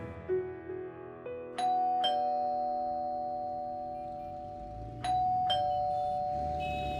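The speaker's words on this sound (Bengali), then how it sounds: "ভয়ঙ্করের বাড়ির সামনে এসে দুবার কলিং বেল দেওয়ার পর ভয়ঙ্কর নিজেই দরজা খুলল" A doorbell rings twice, each press giving a clear two-tone ding-dong that fades away slowly, set apart by a few seconds of quiet within a narrated story.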